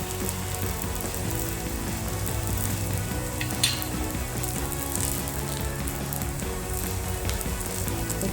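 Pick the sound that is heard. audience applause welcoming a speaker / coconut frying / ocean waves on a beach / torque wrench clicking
coconut frying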